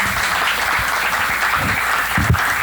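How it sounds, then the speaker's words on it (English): Audience applause at a conference, a dense steady clapping from a crowd that fills the whole moment at an even, strong level. "Let's give them a round of applause."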